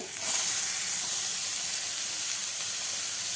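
Chopped onion and tomato sizzle in a hot pan for egg chaat, a steady close-up hiss that runs unbroken from start to finish with no talking.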